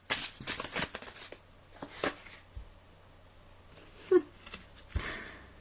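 Tarot or oracle cards are shuffled for a reading in a quiet room, with several quick riffling bursts and soft card slaps spread irregularly over a few seconds, close and crisp.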